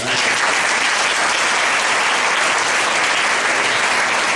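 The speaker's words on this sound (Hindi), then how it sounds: "यीशु मसीह के लिए जोरदार ताली बजाओ।" A church congregation claps loudly for Jesus Christ during a worship service, a thick, sustained wall of applause filling the room without a break.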